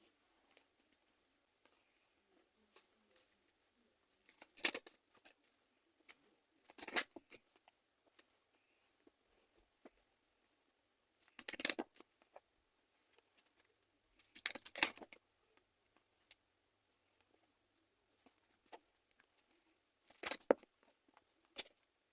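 Tarot cards are handled and drawn one at a time, giving a few brief papery shuffles and snaps separated by long quiet pauses, soft and close with no talk.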